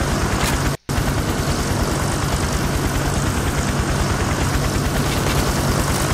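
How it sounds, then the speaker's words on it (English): Loud, steady engine drone of a police helicopter in a heist video game, a continuous low rumble that fills the scene, with one brief dropout near the start. "they sent the helicopter."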